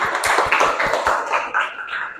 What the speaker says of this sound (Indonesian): Iya, tepuk tangan untuk temannya.